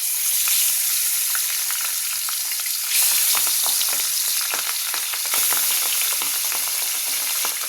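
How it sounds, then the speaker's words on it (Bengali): Fish frying in oil in a kadai, a continuous bright crackling sizzle with sharp spattering pops and occasional stirring scrapes, close and loud, with no voices. "বন্ধুরা মাছগুলো কিন্তু খুব ফোটে, তেল ছিটায়।"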